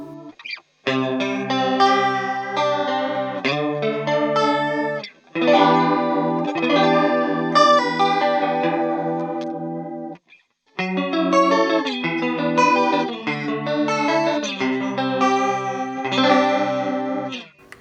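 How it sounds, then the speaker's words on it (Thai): Electric guitar chords through an M-Vave Cube Baby multi-effects unit ring out with a shimmering, warbling chorus effect, played in sustained phrases separated by brief silences. "เป็นโมดูลของคอรัสนะครับ"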